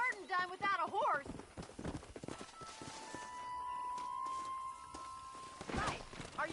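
Horse hooves clip-clopping at a walk in the video game Red Dead Redemption, a steady rhythmic patter under speaking voices, with musical tones and cattle herding ambience around it.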